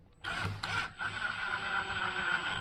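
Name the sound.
screw driven into LP SmartSide trim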